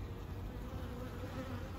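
Honeybees from a rescued wild colony kept in the city buzz in a continuous, faint, even drone with no voices or other sounds.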